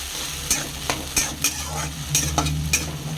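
Garlic fried in hot oil over a ginger and green chilli paste while cooking a Bengali tilapia fish curry, with a steady sizzle broken by several sharp spoon-stirring scrapes, close and fairly loud, no voices.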